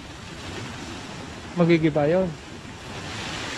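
Water pouring and flowing at the Lagnas River in Sariaya, Quezon, near riprap stones, a steady broadband rush throughout with someone speaking briefly over it in the middle.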